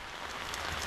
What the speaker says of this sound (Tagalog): inabot na kami ng ulan